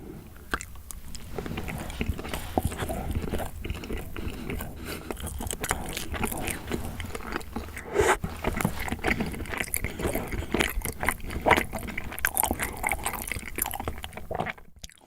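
Someone bites and chews a melon-flavoured rice cake close to the microphone, with soft sticky crunches and wet mouth sounds repeating steadily and no talking.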